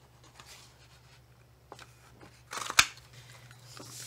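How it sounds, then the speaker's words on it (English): A story label punch cuts through designer series paper with a crisp, sharp snap, preceded by soft rustling and faint handling of the paper, close and quiet. "I use the story label punch to punch out my designer series paper"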